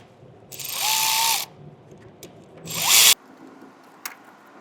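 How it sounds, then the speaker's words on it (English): A power tool with an 8 mm socket runs down the oil rail bolts on a Ford 6.0 diesel engine in an Excursion, giving two close whirring bursts that ramp up and stop, separated by faint clicks. "Take our 8 milli and cinch down"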